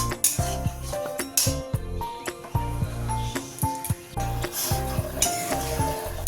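Spices sautéing and stirred in a pan with a spoon, close and lively: a constant sizzle punctuated by rhythmic metallic scrapes and clinks against the pan, no talk.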